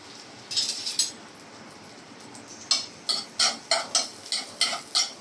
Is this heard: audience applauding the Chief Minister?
no